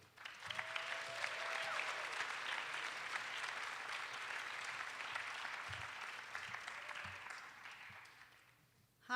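Audience applause welcoming sculptor Justine Mahoney to the stage, a steady, dense clapping from a crowd that holds evenly for about eight seconds and then tapers off.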